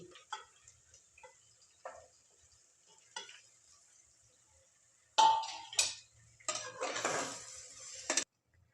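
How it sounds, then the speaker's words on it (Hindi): Onions and spices cook in a pan for a Bihari-style prawn curry: a few light scrapes and taps, then louder bursts of sizzling and stirring close by. "अब मैं इसमें प्याज डाल रही हूँ। अब प्याज को अच्छी तरह से पकने दूँगी।"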